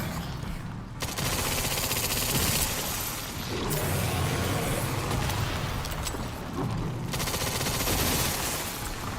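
Video game gunfire from Resident Evil Requiem, with rapid bursts of shots and booming impacts crackling almost nonstop, loud and dense with only brief gaps.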